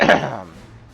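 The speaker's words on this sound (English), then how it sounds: "I had to clear my throat there for a second." A single brief throat clearing, close and fairly loud, trailing off quickly into a faint tail.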